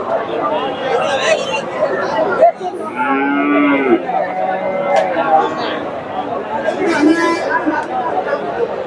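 Close, loud moos from a Friesian heifer at a rainy cattle market rise several times over steady crowd chatter, while people talk nearby throughout.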